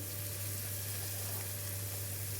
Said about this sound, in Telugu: ఇప్పుడు మనకి పోపు బాగా చక్కగా దోరగా వేగాలి.